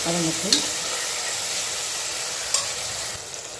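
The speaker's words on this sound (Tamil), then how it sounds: "நல்லா குலைவாக வதங்கணும் தக்காளி அது வரையும் நல்லா வதங்கணும்" Tomatoes and onions sautéing in a pan for mutton curry, a steady bright sizzle throughout with a couple of quick spoon clicks against the pan.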